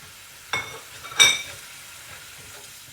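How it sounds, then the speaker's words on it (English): A spoon stirs pepper, chili, cumin, coriander, turmeric and salt into water in a cooking pot for Anglo-Indian pepper water. Two short scraping, clinking strokes stand out against a quiet background. "Give it a good stir."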